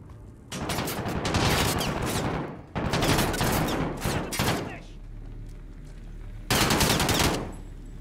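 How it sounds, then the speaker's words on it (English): Rapid automatic gunfire from a Call of Duty: Modern Warfare level erupts in loud, sustained bursts, with several long volleys separated by brief pauses and a low rumbling background between them. "Who's shooting?"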